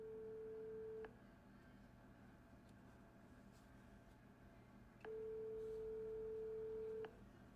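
Telephone tones on a call placed to a child care center in Minneapolis, Minnesota: two long steady ringback tones about four seconds apart over faint line hiss, with no voices.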